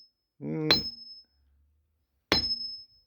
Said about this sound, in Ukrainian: От така от історія з молотком, що співає.